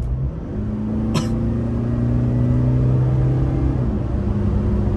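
A Toyota Hilux bakkie engine revving, a steady loud mid-pitched drone that climbs and holds, with a brief click near the start.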